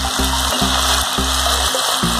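Chole masala spices sizzle steadily in a hot pan while matar chole cooks, with a loud continuous frying hiss and a low repeating rhythmic hum underneath, with no talking.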